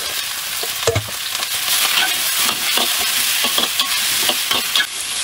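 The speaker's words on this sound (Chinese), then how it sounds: "我们直接下自己喜欢吃的配菜哈，我一般都是先把配菜放下去炒一下" Vegetables sizzle and hiss as they are stir-fried in a hot wok with scrambled egg, a loud continuous frying roar broken by the clatter and scrape of a spatula tossing the food.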